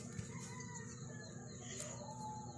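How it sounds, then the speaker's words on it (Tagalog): Chickens cluck softly nearby while a rooster crows faintly in the background, amid quiet outdoor farmyard ambience. "Kambyoan ni Dudo ang manok."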